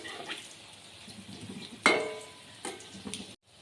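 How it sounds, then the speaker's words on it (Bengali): Chicken pakora fries slowly in oil, a faint soft sizzle running throughout, broken by a sharp clatter of a utensil against the pan midway and a couple of lighter taps. "প্রথমবারটা আমার একটু বেশিক্ষণ সময় দিয়ে ধীরে ধীরে ভাজতে হবে।"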